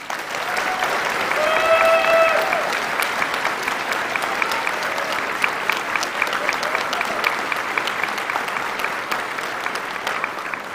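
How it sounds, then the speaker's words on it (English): Audience at a scouts awards day clapping, a sustained dense round of applause from a large crowd, loud and even throughout, with a few faint voices mixed in. "So I think they all deserve a big round of applause from everybody"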